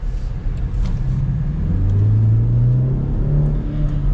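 A 2025 Land Rover Defender P300 with a 4-cylinder engine accelerating around town, heard from inside as a loud, steady rising engine drone and road rumble, with no talking.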